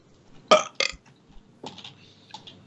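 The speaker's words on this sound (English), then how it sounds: "Just burp everything." Burps from Minecraft, two short sharp belches close together followed by two softer, longer ones, loud and close with quiet gaps between, no talk.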